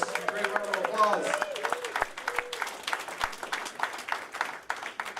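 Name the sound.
applause for a veteran at a Veterans Day ceremony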